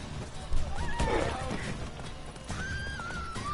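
A horse in The Witcher 3: Wild Hunt whinnies with rising and falling tonal cries amid hoof clatter and a thump, its neighs standing out over busy game noise.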